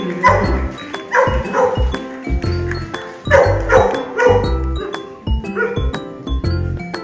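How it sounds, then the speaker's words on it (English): A dog barks repeatedly in short bursts with brief pauses, loud and close, over a musical or ringing backdrop, at a wildlife park. "when you were swinging the belly that Albert was barking."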